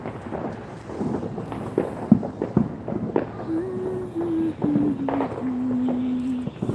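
New Year fireworks set off by neighbours: scattered distant bangs and crackles at an irregular rhythm, with a sustained tone heard faintly over the bursts toward the end.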